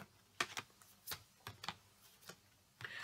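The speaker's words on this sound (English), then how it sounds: "You saw me shuffle. You saw me take the cards." Quick dry slaps and riffles of a deck of oracle cards being shuffled by hand, several short irregular bursts spaced across a few seconds, close and clear with no talking.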